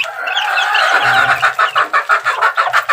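Roosters clucking close by in a farmyard, a busy overlapping run of calls that settles into a steady rhythmic pulse of repeated clucks, loud and without any talk.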